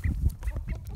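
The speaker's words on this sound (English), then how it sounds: "Duck wrangling." Ducklings quacking in the sun, a few short, close chirpy calls in quick succession over low handling noise.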